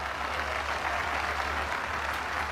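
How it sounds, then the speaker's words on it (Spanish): Crowd applause at a presidential address in a large public square, a steady wash of clapping from a big audience, heard from a distance and continuing evenly throughout. "un aplauso"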